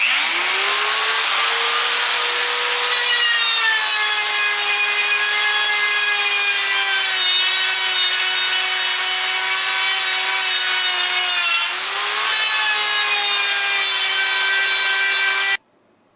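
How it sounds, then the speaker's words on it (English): A small grinding disc works sharp metal edges smooth on a long-travel suspension build, giving a loud, continuous high-pitched whine that dips briefly twice and then stops abruptly near the end. "I got this little grinding disc on the end"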